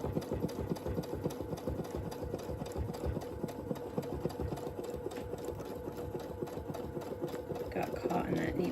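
A sewing machine stitches around a churn dash mini quilt, humming steadily with a rapid needle rhythm while a person talks over it.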